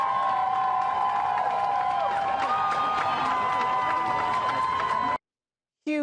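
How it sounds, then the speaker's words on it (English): A large crowd outside the CDC in Atlanta cheers and shouts loudly and continuously, with whistling and sustained tones over the roar, before the sound cuts off abruptly near the end. "Huge crowds outside the CDC in Atlanta tonight. They were there to say goodbye to top health officials who just resigned"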